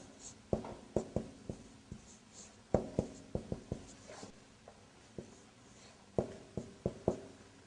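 Pen or pencil writing on paper in short scratchy strokes and taps, close and quiet, coming in irregular bursts with pauses between them.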